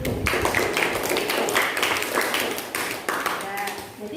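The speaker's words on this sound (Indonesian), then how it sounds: "Tepuk tangan buat Azam." A classroom of students claps together in a quick, irregular burst of many hands, fairly close, with voices murmuring through it.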